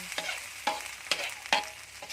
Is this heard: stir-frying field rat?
yes